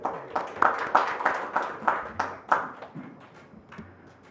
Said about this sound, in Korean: 큰 박수로 김현정 교수님을 모시겠습니다